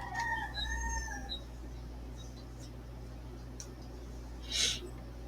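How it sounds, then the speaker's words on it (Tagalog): Rooster crowing at dawn, one drawn-out crow near the start over a low steady hum, followed by faint background noises and a short burst later. "Manok."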